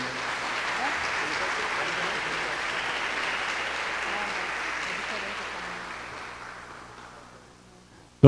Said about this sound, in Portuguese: Uma salva de palmas agradecendo a Dom James.